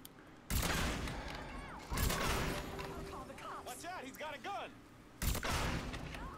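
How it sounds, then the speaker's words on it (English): Heavy .50 caliber gunfire in the Mafia 3 video game, loud bursts of shots at about 0.5, 2 and 5.3 seconds, with game sounds and whooshing effects between them and a voice talking over it. "I put like 50 cal shots into it."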